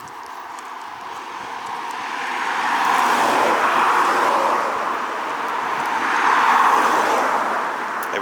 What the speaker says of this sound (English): That's the car coming here